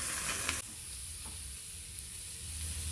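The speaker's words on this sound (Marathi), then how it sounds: "1 टमॅटो घेतलाय, ते पण भाजून घेऊया" Tomato and onion frying in oil in a pan, a steady broadband sizzle that runs the whole time, louder at the start and then settling into an even hiss with a faint clink or stir.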